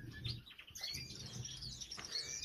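Gouldian finches chirp inside a bird shed, quick high tweets and short calls overlapping against a soft background rustle, fairly faint and steady.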